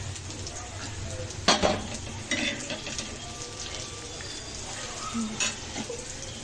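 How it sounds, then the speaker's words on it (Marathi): Chicken with onions, ginger, garlic and whole spices fries in oil in a pan, giving a soft, steady sizzle broken by a few clinks and scrapes of a spoon stirring against the pot. "कांद्यामध्ये सर्व मिक्स करून घेऊन तेलात मस्त फ्राय करणार आहोत."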